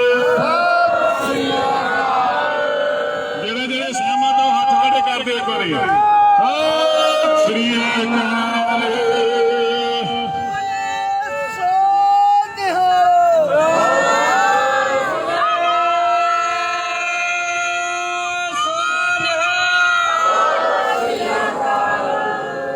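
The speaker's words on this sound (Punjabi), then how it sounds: "ਮੈਂ ਇੱਕ ਜਕਾਰਾ ਬੁਲਾਉਣਾ ਆਪ ਜੀ ਜਵਾਬ ਦਿਓ ਜੀ ਬੋਲੇ ਸੋ ਨਿਹਾਲ" A crowd at a protest sit-in at the Samana bus stand T-point loudly answers the Sikh battle cry 'Bole So Nihal' with 'Sat Sri Akal', many voices chanting together in long, repeated bursts for the whole stretch.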